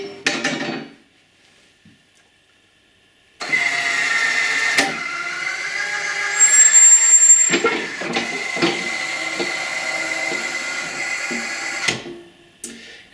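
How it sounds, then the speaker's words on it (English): A steel shooting target lifter runs for several seconds to raise a dropped steel target, giving a close mechanical whir with clanking metallic knocks, after a short metal drop at the start and a pause of near silence. "and we'll see the lifter in action"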